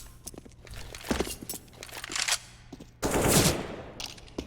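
AK rifle gunfire in CS:GO, several short crackling bursts scattered across the moment, with a louder, denser volley near the end, no voices.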